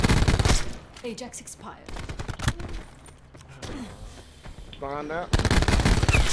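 Spitfire submachine gun in Black Ops 4 rattles out loud, rapid bursts at the start and again at the end, with a game announcer's voice and other in-game sounds between them.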